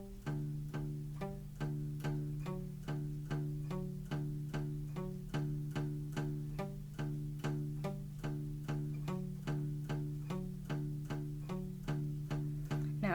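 Guitar picks the verse of a song as a steady arpeggiated pattern, with evenly spaced notes repeating in a regular rhythm. It plays close and clear with no voices.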